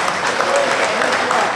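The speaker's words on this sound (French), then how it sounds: "On l'applaudit." Applause from a gathered audience at a Guinean political meeting, a brief dense burst of clapping with crowd murmur blended in.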